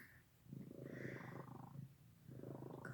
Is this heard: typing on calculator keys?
no